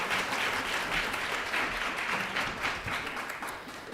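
An audience applauds a scientist, the chancellor of an oceanography institution, at a climate responsibility event, with dense, steady clapping from a crowd that holds at full strength for four seconds before easing slightly.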